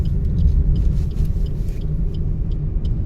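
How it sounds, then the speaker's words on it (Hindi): A car rolls along a road in gear with the brake released during a driving lesson, its engine giving a steady low rumble throughout with faint higher ticks above, close and continuous without talk. "छोड़ दो, ब्रेक छोड़, देखो फिर लगी ना भागने गाड़ी।"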